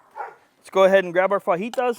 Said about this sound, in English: Hear my dog screaming over there